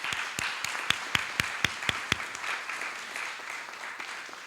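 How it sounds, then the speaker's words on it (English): An audience applauds a school team at a one-year celebration event, with sustained crowd clapping and a few louder, evenly spaced claps near the front standing out over the steady wash of applause. "So give my team a big round of applause,"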